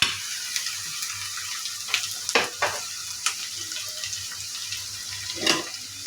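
Chopped ash gourd (chal kumra) hits hot oil with whole cumin, giving a steady soft sizzle broken by several sharp stirring scrapes and clatters, close and moderately loud with no talking.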